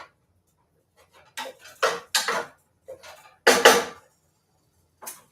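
A utensil scrapes and taps inside a pot while garlic and onion are stirred, several distinct clattering strokes separated by brief silences, close and fairly loud, with no talk.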